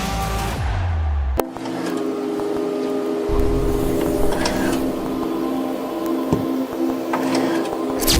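An RS Turbo 3D printer runs with a steady mechanical hum and layered tonal whine, a sharp click near the start followed by continuous, moderately loud motor drone.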